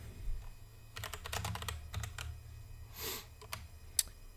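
Fingers tap a computer keyboard in quick bursts of close, light key clicks, typing a command into a shell, with brief pauses and one sharper click near the end.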